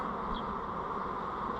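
Honeybee nurse bees buzz steadily inside a container, a dense, continuous droning hum that stays close and even throughout, with no voices.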